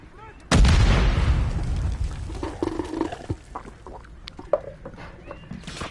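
A grenade blast in Call of Duty MW3 erupts loudly and rolls out in a long decaying boom, followed by scattered distant gunfire pops and small game effects.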